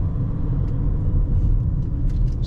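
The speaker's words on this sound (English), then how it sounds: "it is very nice to drive on this road" A Honda CR-V cruises along a highway, its cabin filled with a steady low road rumble and engine drone, constant and close, with a few faint ticks and no talking.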